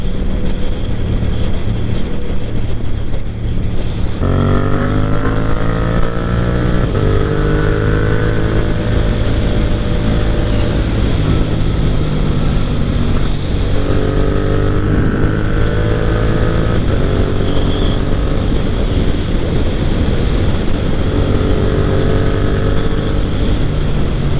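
Yamaha MT07 motorcycle ridden on a sunny cruise, engine climbing in pitch through one gear, then shifting up with a brief dip before rising again, repeated several times, steady and close under constant wind rush.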